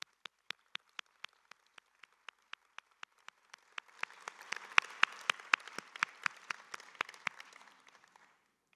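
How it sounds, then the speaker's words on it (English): Scattered claps at a conference closing ceremony swell into fuller audience applause for the program committee, starting as sparse, evenly spaced claps and thickening midway before tapering off, moderately distant. "let's give everyone a round of applause"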